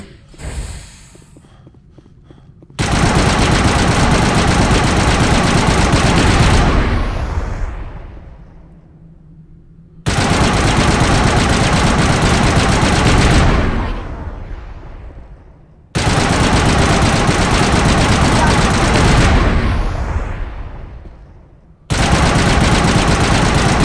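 Rifle gunfire in the video game Mass Effect: Legendary Edition, loud sustained bursts of automatic fire that cut in and out in three long stretches, each tailing off before the next volley, with no talk.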